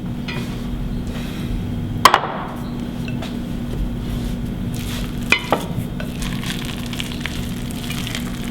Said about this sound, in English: Now comes the fun thing, mixing it all together.